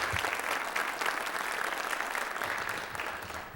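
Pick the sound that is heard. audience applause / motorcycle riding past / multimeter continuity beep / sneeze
audience applause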